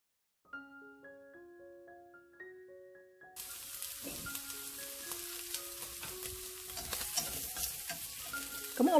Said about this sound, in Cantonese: 白鑊煎一煎呢啲羊肉